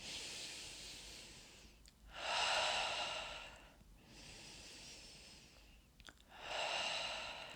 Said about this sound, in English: we're going to do 3 more breaths. Inhale to that gentle lifting up, and exhale out the mouth.